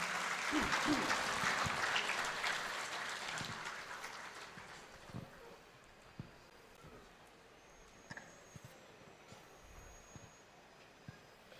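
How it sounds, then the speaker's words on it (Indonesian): Crowd applause at a 20th anniversary Aceh tsunami commemoration, a dense burst of clapping that fades away over a few seconds, leaving scattered faint claps and room noise. "Kita berikan tepuk tangan kembali yang meriah untuk Delisa."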